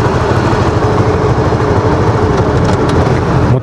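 A loud motorcycle engine, likely a Yamaha RS/RSX-type bike, roars as a dense, rough, rumbling drone close by and at a steady level throughout, with no talking.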